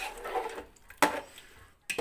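A spoon stirs chicken pulao with yogurt in a cooking pot, giving a few metallic scrapes and clinks against the pot amid soft wet mixing, close and quiet.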